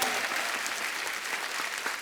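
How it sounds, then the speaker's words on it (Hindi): A studio audience at a comedy show claps loudly for the guests, dense continuous applause filling the room. "जोरदार तालियां हमारे मेहमानों के लिए"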